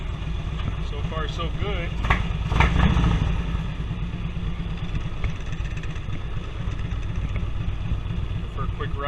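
A Harley-Davidson Touring V-twin motorcycle engine fitted with new exhaust pipes runs with a steady, deep rumbling idle throughout, while someone briefly speaks over it.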